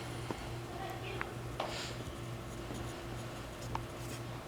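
A colored pencil scratches shadow lines onto paper in soft, close strokes with brief scrapes, faint against a quiet room hum.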